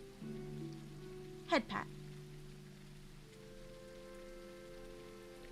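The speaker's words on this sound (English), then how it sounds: "The rain does feel really nice to hear." Soft, steady rain patters in the cozy video game Teddy's Haven, a faint hiss under gentle background music, with a brief spoken remark partway through.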